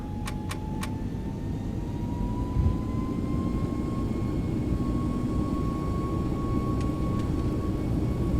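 Airbus A321neo jet engines at takeoff thrust in a flight simulator make a steady, loud broadband roar with a faint rising whine, continuous throughout, and a few brief clicks near the start.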